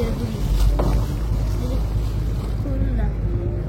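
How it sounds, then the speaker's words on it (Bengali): A passenger launch's engine runs steadily as the boat reverses away from a river ghat after dropping passengers, a constant low rumble with water and wind noise around it. "কোদালপুর লঞ্চঘাটে যাত্রী নামানো শেষে আমাদের লঞ্চ পরবর্তী গন্তব্যের উদ্দেশ্যে ব্যাক গিয়ার দিচ্ছে।"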